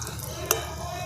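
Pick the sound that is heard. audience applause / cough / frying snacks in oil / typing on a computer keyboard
frying snacks in oil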